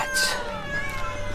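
Several cats meow at once in a room full of white cats. A close, high-pitched meow overlaps with softer wavering cries and a quiet background murmur.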